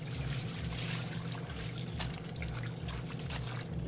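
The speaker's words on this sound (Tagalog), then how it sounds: "Banlaw tayo, banlaw guys." Water trickles and pours steadily while laundry is rinsed in a plastic basin, a continuous close splashing flow with no talk over it.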